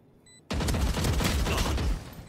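Rapid gunfire in the video game Valorant breaks out suddenly after a quiet moment and continues as a dense, loud burst of shots for about a second and a half before it stops.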